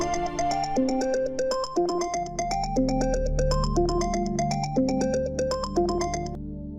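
A phone rings with a bright, looping melodic ringtone, repeating the same short phrase several times at steady volume for about seven seconds, with no one speaking over it.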